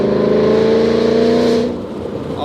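A sports car engine revs loud and close, holding a high roaring pitch before dropping off and fading into a lower idle.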